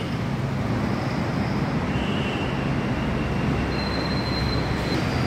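Pune Metro train on the elevated line at Ramwadi metro station, a steady continuous rumble of wheels and running noise with faint high squeals, loud and unbroken throughout.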